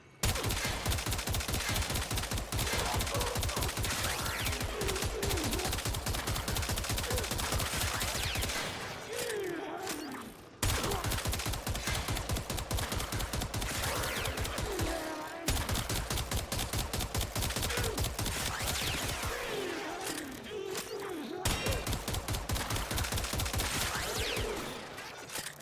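Stahlta rifle from Warframe firing in long, rapid automatic bursts at level 130 Steel Path targets, a dense, loud, continuous crackle of shots broken by a few short pauses, with no talking.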